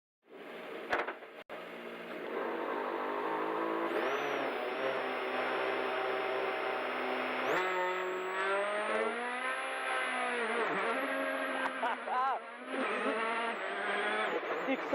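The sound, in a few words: rally car accelerating in EA Sports WRC video game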